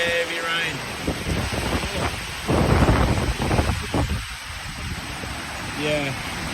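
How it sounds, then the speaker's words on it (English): Heavy rain pours during a thunderstorm, with a dense steady roar and a louder surge in the middle, while people talk over it in bursts. "Heavy rain."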